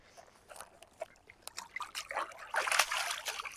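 Water trickles and splashes over a freshly caught bluefish as it is rinsed on a Cape Hatteras beach, a soft irregular dribble that swells louder toward the end.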